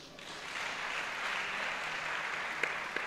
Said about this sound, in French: On peut acclamer Jésus.